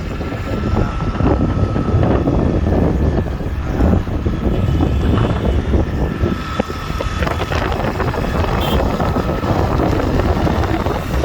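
Strong wind roars across a microphone on the road to Dhading near Kathmandu, a loud, constant low rumble with buffeting gusts throughout and no voices.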